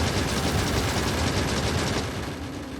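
Gun turrets in the factory-building game Factorio fire a dense, continuous rattling barrage at close range, holding loud and steady before easing slightly near the end, with no talking.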